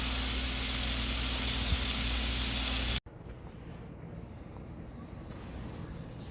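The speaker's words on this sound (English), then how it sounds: "I'm about to put the lid on and let those things roast." Pork tenderloin roasting under the lid of a mini-grill gives a steady broadband hiss and sizzle that cuts off abruptly partway, leaving a quieter, softer hiss afterward.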